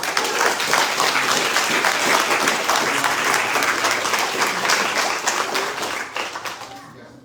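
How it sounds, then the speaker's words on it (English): Loud, dense applause from a graduation audience at Job Point's Summer 2022 ceremony, sustained evenly before tapering off in the final second. "Round of applause for all these guys."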